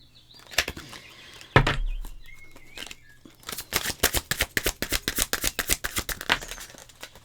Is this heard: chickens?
no